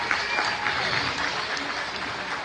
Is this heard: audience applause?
yes